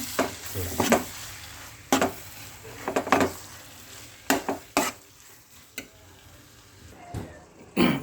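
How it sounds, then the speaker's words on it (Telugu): Mutton mix is stirred into a pan, with sharp scraping and clattering strokes of a utensil against the metal at an irregular pace over a faint sizzle, close and clear. "ఇప్పుడు మటన్ ఇందులో కలుపుతాను చూడండి."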